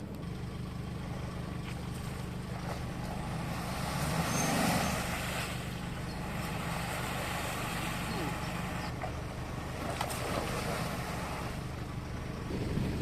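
A heavy engine drones steadily, rising briefly as a vehicle strains on a tow strap to pull a car stuck in mud, with muffled voices over the rumble.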